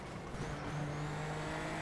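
Race car engine in the iRacing sim racing game during a safety car restart: a steady, fairly quiet engine drone with a sustained tone, heard alone.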